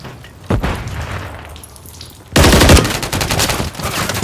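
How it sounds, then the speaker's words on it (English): In Call of Duty Modern Warfare 3 multiplayer, a thud of gunfire is followed by a loud, close grenade blast that erupts into sustained rapid automatic fire and crackling booms, no talk. "Grenade out."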